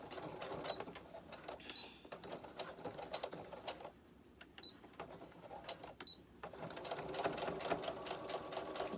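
A sewing machine stitches a fabric face mask with a filter pocket, running in close rapid bursts of clattering needle strokes with short pauses between runs, faint and without talking.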